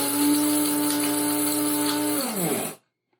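An old push-button coffee grinder whirs through beans in a loud, close, steady electric buzz that drops in pitch as it winds down and stops abruptly near the end.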